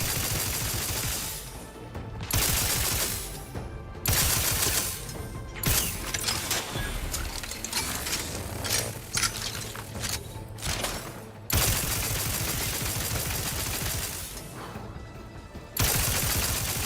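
Repeated bursts of gunfire from a gun in The Outer Worlds 2, loud mechanical shots in several spaced volleys with clicking, whirring gun mechanics between them.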